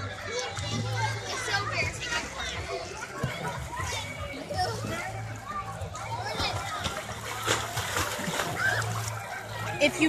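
Children splashing and playing in water at an outdoor water park, busy wet splashes and kids' shouting throughout, with an adult voice talking nearby.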